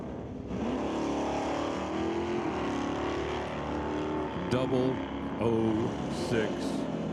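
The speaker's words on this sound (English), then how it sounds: "a street-driven Mustang out here battling it out on the weekend at the Titanium Strip" Street-driven Ford Mustang with license plates drag racing at the Titanium Strip during an NHRA Northwest National Open Series event, a loud sustained engine roar with someone talking over it throughout.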